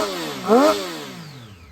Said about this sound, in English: I'll give it a few revs, you can hear how she sounds.